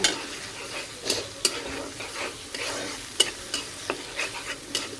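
Pointed gourd cooks in a pan with a little added oil, giving a continuous sizzle broken by repeated scraping stirs of a spatula in an irregular rhythm, close and moderately loud, with no talking.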